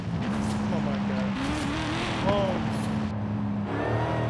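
Engine exhaust from a gold Dodge Demon muscle car in Forza Horizon 5 drones steadily and loud, with shifting pitch as it revs and climbs through the gears, and a voice talks briefly over it.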